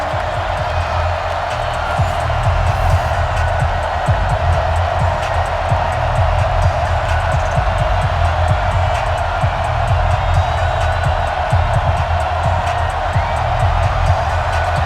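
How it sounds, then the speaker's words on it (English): A stadium crowd roars in the Madden NFL 20 video game during a Pro Bowl matchup, a steady, sustained wash of cheering and crowd noise with occasional whoops, loud and continuous throughout. "The crowd is fired up"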